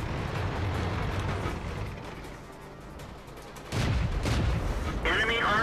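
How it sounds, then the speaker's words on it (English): Incoming artillery shells in World of Tanks land as heavy booming blasts over a continuous rumble of tank engine and gunfire, with a louder burst near the end. "that's an arty shot coming on me, so backing off, backing off"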